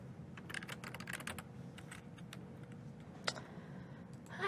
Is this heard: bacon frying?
no